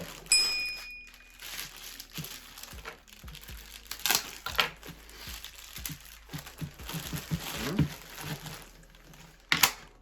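A plastic package bag crinkles and rustles while lost parcels are unpacked by hand, with irregular bursts of crackling and crunching, near and moderately loud, including a sharp rustle near the start and another near the end.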